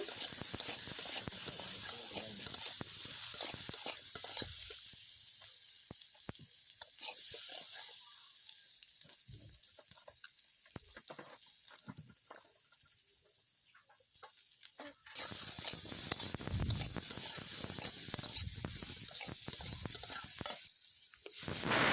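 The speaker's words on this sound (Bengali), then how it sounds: "স্বাদ মতো লবণ লঙ্কা গুঁড়ো দিয়ে কিছু সময় আলুটাকে ভালোভাবে কষিয়ে নেব" Potatoes sautéing with turmeric, salt and chili powder in a pan, a close crackling sizzle with stirring scrapes that quiets midway and then swells back to full frying.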